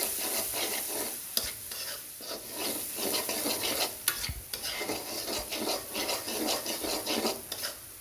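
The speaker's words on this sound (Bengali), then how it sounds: "এখন সবগুলো একসাথে মিক্স করে নিতে হবে।" A spoon scrapes and stirs steadily through ground spices, including turmeric, in a pan over a continuous frying sizzle, with no voices.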